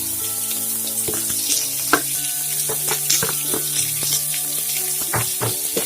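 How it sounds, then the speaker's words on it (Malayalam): Ginger, green chili, garlic and onion sauté in hot oil after mustard seeds pop, giving a steady close sizzle broken by frequent sharp scrapes and taps of a spoon against the pan. "നന്നായിട്ട് വഴറ്റിയെടുക്കാം."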